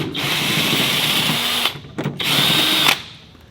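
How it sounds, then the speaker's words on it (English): A power tool whirs loudly up close while removing a bolt on a Cybertruck during a running-board install. It runs in two sustained bursts separated by a short pause with brief stutters. "So we're going to take this bolt out first."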